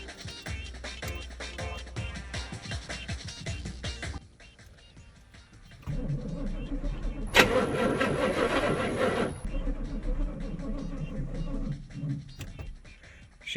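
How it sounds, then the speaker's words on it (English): A car starter motor cranks the engine, a sustained grinding whir near the mic that starts partway through and runs for a few seconds after a quieter stretch of background noise. "Let's see if this starter will not only turn the motor,"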